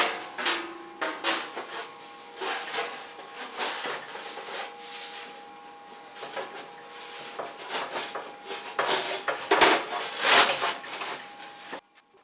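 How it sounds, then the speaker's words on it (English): A steel shroud is slipped onto a firepit built from a water heater, with irregular metallic scraping, clanks and knocks of sheet metal close by, no speech. "now, let's slip this other shroud on here"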